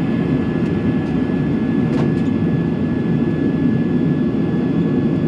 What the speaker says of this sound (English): Thrust reversers come out. Go to full.